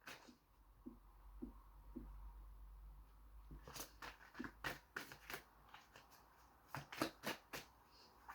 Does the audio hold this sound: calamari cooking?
no